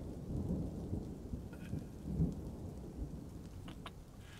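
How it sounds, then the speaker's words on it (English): Rain falls steadily with low rumbling thunder in the Dwarf Fortress video game, a quiet continuous patter with soft thunder rolls and a few faint ticks. "Started raining."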